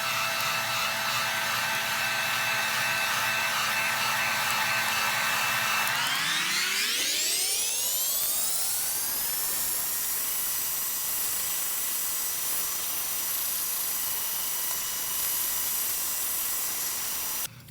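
A heat gun on low heat shrinks plastic wrap around a tumbler clamp, blowing as a steady, close, continuous whir that shifts upward in pitch partway through and holds there to the end.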